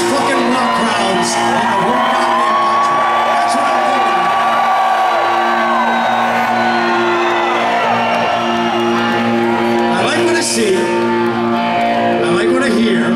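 A rock festival crowd at an outdoor show in Oshkosh, Wisconsin, roars and cheers continuously, with whoops and shouts rising from the mass of voices and surging louder near the end.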